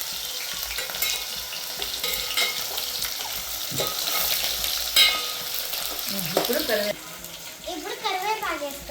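Mustard seeds, beans and onions frying in hot oil for cashew upma, heard as a steady close sizzle with stirring scrapes, and a voice talking over the last few seconds.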